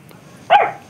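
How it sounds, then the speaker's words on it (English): A single sharp dog bark rings out close by, brief and loud against a quiet background. "She's listening to the dog."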